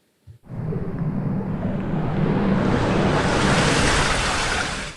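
Water and air are drained out of a tank, starting abruptly after a brief click into a loud, steady rushing hiss that swells slightly and holds to the end, with no talking.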